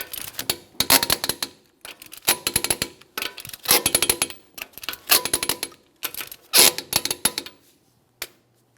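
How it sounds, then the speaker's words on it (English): Wheel lug nuts on a 2008-2017 Mitsubishi Lancer 2.4L are tightened with a torque wrench, giving bursts of close, sharp ratcheting clicks in short groups separated by pauses. "We're going to be torquing each of these lug nuts in a crisscross manner to that 80 foot-pounds."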